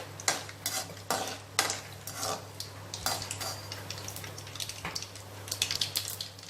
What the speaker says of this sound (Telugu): ఆయిల్ వేడెక్కింది ఇందులో కొద్దిగా ఆవాలు మినపప్పు వేస్తున్నాను